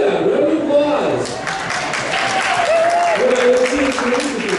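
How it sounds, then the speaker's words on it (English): Sustained audience applause fills the room, steady and fairly loud for several seconds, with a few voices and chuckles mixed into the clapping. "Round of applause!"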